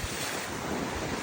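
Rushing ocean waves on a beach at Dingalan, a loud continuous broadband roar of surf mixed with wind buffeting the microphone, with no voices.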